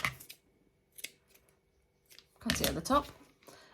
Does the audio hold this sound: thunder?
no